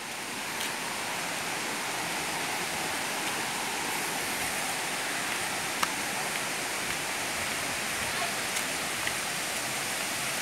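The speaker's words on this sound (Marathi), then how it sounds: "हा पाण्याचा इथे पाट काढलेला आहे" Water runs steadily along a small irrigation channel cut beside a village in hilly forest country, a continuous near rushing wash that holds even throughout.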